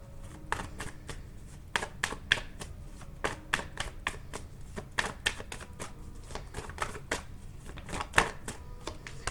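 Tarot cards being shuffled and flipped close by, with a quick irregular run of crisp paper snaps, riffles and taps throughout, soft overall and with no talking.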